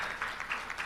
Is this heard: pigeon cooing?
no